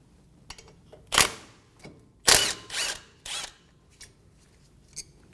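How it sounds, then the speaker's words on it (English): A 13mm socket on a ratchet or power tool loosens the front brake caliper bolts on a 2019-2026 Mazda 3, with several short, sharp mechanical bursts and clicks in a quiet garage. "Using a 13mm socket, remove the caliper bolts."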